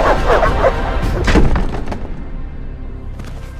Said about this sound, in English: The dogs will tear her apart.